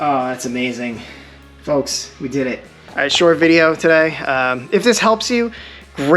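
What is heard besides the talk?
None of the usual background noises is heard.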